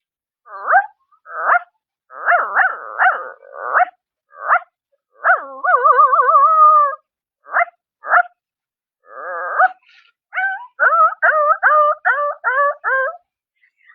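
A performer's voice imitates a poor household's dog barking: a close, solo run of short yaps and whimpering barks in uneven bursts, with a drawn-out whine in the middle and a quick rhythmic string of yelps near the end.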